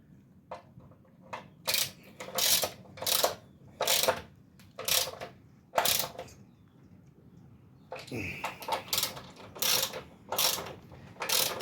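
A ratchet tightens bolts on a geyser heating element, heard as a steady series of crisp clicking strokes in short rhythmic bursts, close by and fairly quiet.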